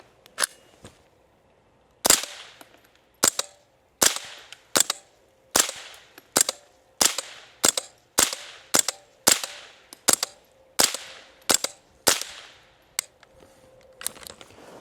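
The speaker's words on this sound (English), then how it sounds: "We're going to do that with an AR and shoot a little bit slower." Suppressed AR rifle firing a slow string of about sixteen shots, alternating subsonic and supersonic rounds, each a sharp close report with a short decaying tail, evenly paced with no talking.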